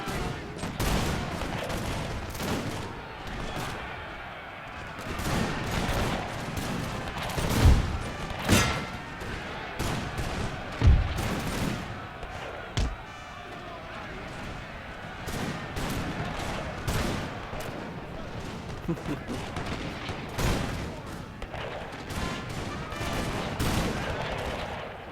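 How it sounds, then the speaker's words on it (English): Massed musket volleys from Napoleon Total War roll through a battle, dense crackling fire with repeated heavy thumps and booms, continuous and loud throughout with scattered near and distant shots. "Keep firing. Don't give them an inch."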